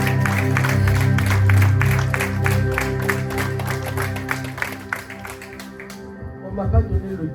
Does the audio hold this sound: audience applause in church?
yes